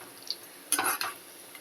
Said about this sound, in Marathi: भजी घातली आता आपल्याला परतून घ्यायची आहेत